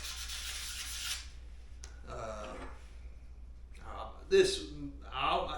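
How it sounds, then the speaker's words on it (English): Sandpaper rasps across a turkey slate call for about a second, a close, dry scratching that stops abruptly and gives way to quieter handling noises. "I just hit it with this sandpaper a little bit, make sure I get it everywhere"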